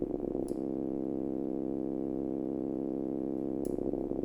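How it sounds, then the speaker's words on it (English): An Arturia Modular-V synth preset gives a sustained, filter-modulated buzzing tone with static-like chatter, steady and moderately quiet, with two brief bright clicks near the start and end. "what we're ending up with is that kind of static sounding chatter"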